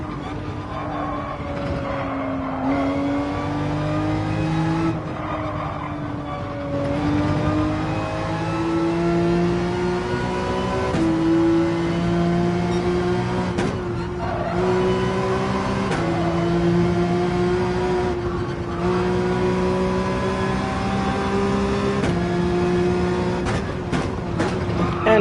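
A race car engine in Gran Turismo 7 drones loudly and steadily through a test lap, its pitch climbing through each gear and dropping sharply at upshifts and braking points, with no voices over it.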